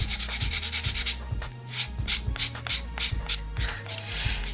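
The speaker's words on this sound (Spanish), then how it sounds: "Comenzamos dando con la lija más gruesa." Coarse sandpaper rubbed over leather edges, close and distinct, with a rapid run of short scratchy strokes at first, then slower regular back-and-forth rasps.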